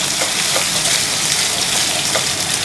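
Pre-boiled food browns in butter in a pan at a restaurant kitchen, giving a loud, steady, close sizzle that crackles evenly throughout with no talking.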